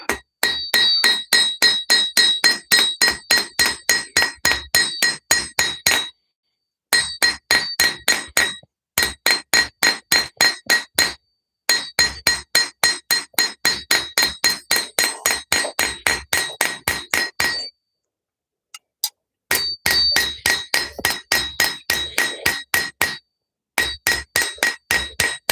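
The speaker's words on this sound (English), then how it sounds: "going to just hammer this guy all the way home" A hammer drives wire all the way home in fast, bright metallic taps, close and loud, running in long rapid bursts separated by brief pauses, with no talking.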